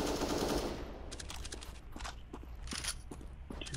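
Gunfire in a first-person shooter game: a loud burst opening the clip, followed by scattered sharp shots and clicks and footstep-like taps through the rest, with no talking.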